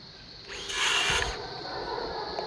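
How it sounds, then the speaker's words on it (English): A nail gun fires into salvaged timber for a backyard chicken fence, giving one short sharp burst followed by a brief mechanical hiss, fairly close and alone. "now I am going to use the nail gun to"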